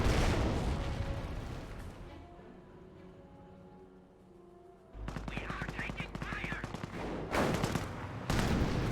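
Hotchkiss barrage fire in the Company of Heroes strategy game, bursts of rapid gunfire and impacts after a quieter stretch with low rumbling, loud sharp reports clustered near the end.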